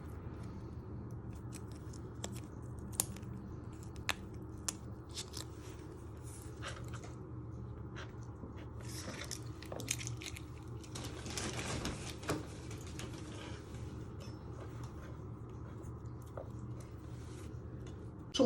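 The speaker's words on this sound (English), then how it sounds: "once you have peeled all your skin off your garlic" Garlic cloves are peeled and their ends chopped off on a cutting board, giving faint, scattered knife taps and soft crackling skin sounds over a low background hum.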